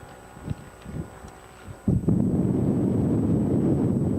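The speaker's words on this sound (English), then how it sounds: "It's awfully windy for this plane." Strong wind buffets the microphone at a small airfield, a few scattered thumps early on before a loud, steady gusting roar takes over from about two seconds and holds to the end.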